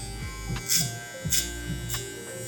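Electric hair clippers buzz through hair during a barber's fade, a close, steady hum broken by short bursts as the blade strokes pass, with no voices.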